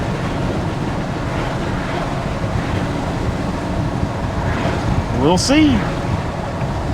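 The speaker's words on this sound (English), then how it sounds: "So I've got quite a bit of wind now." Wind buffeting a Rode Go 2 wireless microphone outdoors, producing a loud, constant low rumble throughout, with a short spoken phrase near the end.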